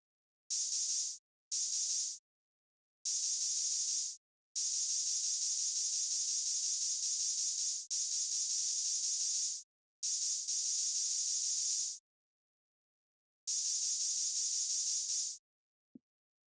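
Spray hissing in the courtroom game Phoenix Wright: Ace Attorney, a series of loud, steady bursts of varying length separated by short silences, heard alone.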